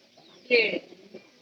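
A short burst of pigeon cooing rises midway through, a soft throaty coo from a loft being fed maize meal, set against quiet background murmur.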